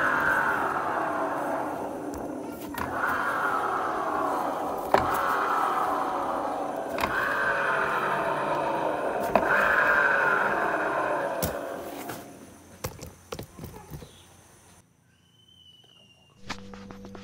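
A Yamaha NMAX old CVT makes a rough grinding, whirring noise as the wheel is spun. The sound comes in repeating sweeping surges, then slows and fades to near silence, followed by a few clicks.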